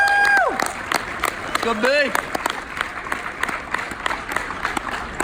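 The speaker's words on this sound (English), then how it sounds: "Everyone clap it up for Brandon Boyd." An audience claps and cheers for Brandon Boyd, with a rising whoop ringing over steady applause and a voice talking through it.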